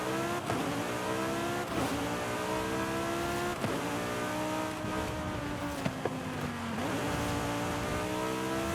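A Liberty Walk Lamborghini Huracan accelerating in Forza Horizon 5, its engine note climbing steadily through several gears with brief dips at each shift, loud and close with no talk.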